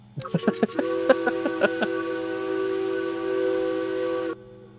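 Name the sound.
train whistle in video game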